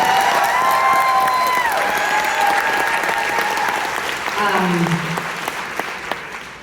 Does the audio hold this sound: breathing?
no